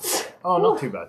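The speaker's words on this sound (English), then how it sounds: "I'm going to sneeze." A man lets out a short, sharp sneeze on a morning chat show, a quick breathy burst that is immediately followed by his speaking voice.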